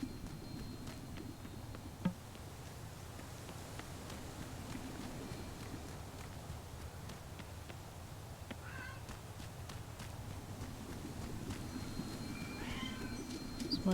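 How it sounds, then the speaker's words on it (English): A pet cat meows a few times in the room, faint and brief against a steady background of game music and hum, with the calls rising near the end. "It's my cat, sorry."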